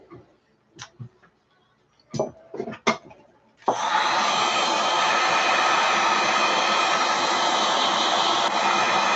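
A few scattered knocks and clicks from handling come first, then a heat tool switches on and blows a loud, steady rushing whoosh over alcohol ink in epoxy resin for the rest of the time.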